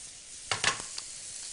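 Whole prawns dropped into a hot pan for sweet potato gnocchi, giving a sudden burst of sizzling and spitting that settles into a steady frying hiss.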